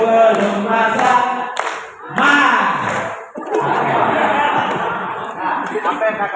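A classroom of students claps briefly in a few loose bursts, mixed with cheering, chatter and laughter, with voices talking over and between the claps.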